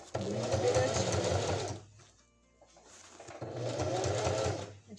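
A sewing machine stitches a corset seam on a gothic dress in two close, loud bursts of rapid mechanical whirring, separated by a short pause, with faint speech nearby.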